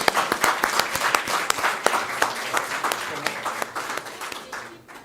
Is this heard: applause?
yes